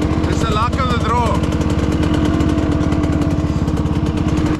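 A scruffy KTM dirt bike engine runs steadily and close, a loud, buzzing single-cylinder drone with a fast regular pulse and a brief rev near the start.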